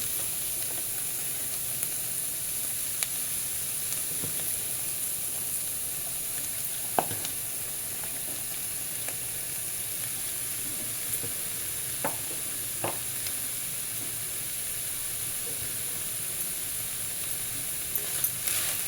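Cabbage sizzles steadily in a hot pan for an Andhra cabbage tomato curry, a constant frying hiss with a few scattered scrapes and taps from stirring.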